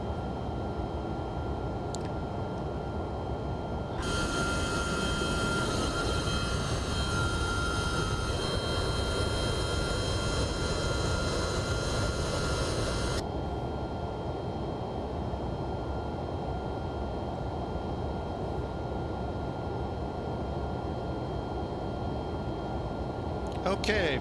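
An MD-11F freighter climbs out in a flight simulator with a steady, loud engine drone throughout and a brighter, louder roar for a stretch in the middle.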